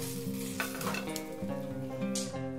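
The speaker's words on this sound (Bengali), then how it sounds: "এখন আমি হাই ফ্লেমে বেগুনটা ভেজে নেব।" Brinjal (eggplant) pieces fry in hot oil over a high flame for a curd brinjal dish, a steady close sizzle with light stirring and no voices.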